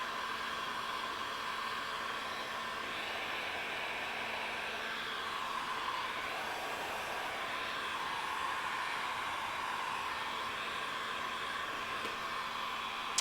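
A steady, continuous sewing machine whir with a hissing, broadband texture holds level throughout, with no pauses or speech.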